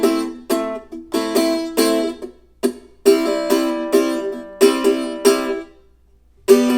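A Loog guitar strums a song at an up-tempo pace, with bright, punchy chord strokes in a choppy, rhythmic pattern, brief pauses between bursts, and a final stroke after a short gap.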